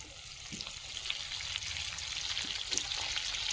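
River fish sizzles steadily in hot oil in a home kitchen pan, a close, continuous crackling hiss with small pops and no voices.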